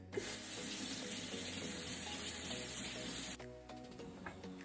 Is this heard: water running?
yes